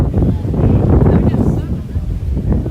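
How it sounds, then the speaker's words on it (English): Heavy wind buffets the microphone with continuous low rumbling and gusty roar throughout, loud and close, at an outdoor flea market at Hamvention. "And it's so windy here, folks."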